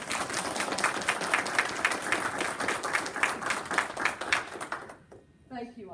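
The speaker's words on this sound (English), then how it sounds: "So I'd like for you all to give them a round of applause." Audience applause fills a county school board monthly meeting, dense clapping from a room of people that runs steadily for about five seconds before cutting off, followed by a brief voice.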